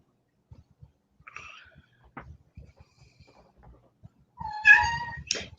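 A cat indoors gives a short, quiet meow, then after a pause a louder, drawn-out meow close by, with faint shuffling between them.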